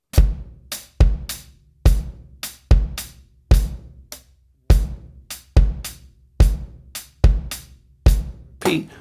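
A drum kit plays a shuffle slowly, with a steady triplet-feel groove of hi-hat, snare ghost notes and kick, loud and close, bars repeating evenly with no talking.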